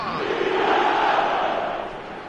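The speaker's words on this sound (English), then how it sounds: "The crowd are calling for this to be put to bed." A stadium crowd in the eFootball video game roars in a steady, dense wall of chanting and shouting that swells slightly and then eases.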